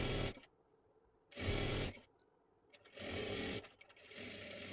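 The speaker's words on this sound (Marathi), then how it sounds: "इथे बरोबर अशी शिलाई देऊन घ्यायची" A sewing machine stitches a fabric strip for a blouse tassel, running in three separate bursts of fast mechanical whirring with short quiet pauses between.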